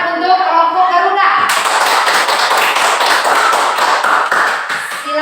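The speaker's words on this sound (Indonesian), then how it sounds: "tepuk tangan untuk kelompok Garuda" A voice speaks briefly, then a seated audience breaks into loud, dense clapping for a group that continues steadily before easing slightly at the end.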